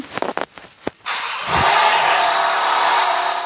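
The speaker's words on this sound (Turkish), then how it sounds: "Arabanın sesine bak be ya da BMW adı üstünde BMW" A BMW car engine starts with a few sharp clicks and bursts, then catches and revs into a loud, sustained roar close by.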